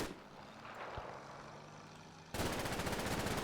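Heavy gunfire from the woods in the Combat Mission: Fortress Italy video game, heard first as a faint, distant crackle, then a sudden loud, rapid burst of automatic fire that rattles continuously to the end.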